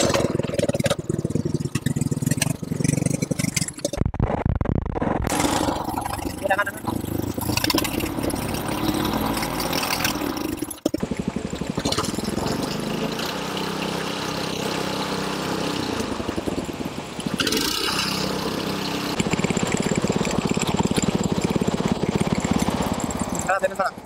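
A 5 hp engine fitted with a scooter clutch belt gearbox runs steadily and loudly for the whole stretch, a close, continuous mechanical roar with shifting load.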